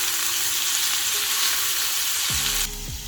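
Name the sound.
fish frying in a pan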